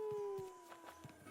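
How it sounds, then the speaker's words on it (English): A theremin item in Animal Crossing: New Horizons gives an eerie, wavering tone that glides slowly downward, faint and alone, with a few soft thumps from footsteps underneath. "Of course I had to include a theremin somewhere."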